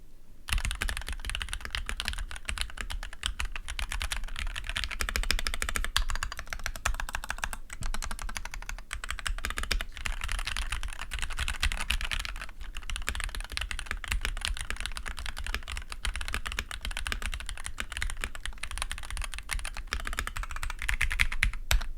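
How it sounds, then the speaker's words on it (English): Continuous fast typing on a Nuphy Halo65 65% mechanical keyboard, dense close clacks of keys in a steady rhythm with brief pauses, heard alone. "For me, it's worth the trade-off for just how good typing does sound."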